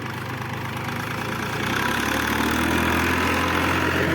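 A KhTZ 3512 tractor's diesel engine chugs steadily and loudly at idle, its low rumble and rhythmic knocking continuous throughout with no voices.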